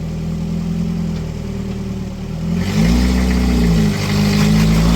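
A first-generation Toyota 4Runner with a solid axle swap, 37-inch tires and 4.88 gears, hung up on its rear bumper on trail rocks, revs its engine hard. A steady close-up drone swells louder partway through and holds at a strained, sustained roar.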